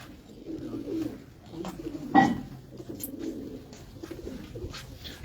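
Pigeons in a Karachi pigeon loft coo softly in low, rolling murmurs, with one louder, nearer call standing out amid a quiet, continuous background of birds.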